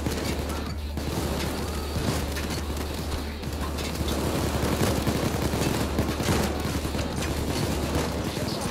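Rapid assault rifle fire in Payday from a modded Raid STG, dense and continuous over several seconds, loud and close with layered game effects underneath.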